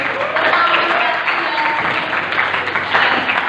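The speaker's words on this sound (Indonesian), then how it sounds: "Tepuk tangannya dong buat Kang Al Rashid." Applause from an audience at a school literacy event, a steady, dense wash of clapping filling the space, with some crowd murmur beneath it.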